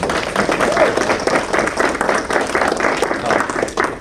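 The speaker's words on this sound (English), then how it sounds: "So another round of applause there." Audience applause at a ribbon cutting for a business opening, a steady wash of many hands clapping together, fairly loud and continuous for the whole stretch.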